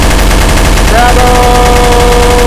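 Rapid automatic gunfire from Counter-Strike: Source, played on the Dust 2 map, rattles densely and steadily throughout, with faint tonal game sounds layered over the shooting.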